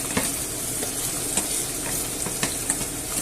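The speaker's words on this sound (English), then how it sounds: "so we leave it there to fry" Onion and sausages sizzling in a frying pan, a steady close crackle with occasional stirring clicks throughout, no talking.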